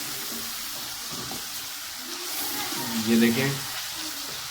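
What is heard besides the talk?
potatoes and eggplant frying with masala in a pan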